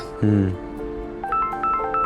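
A phone rings with an electronic ringtone, a run of short bright notes repeating in a quick rhythm after a brief lower tone.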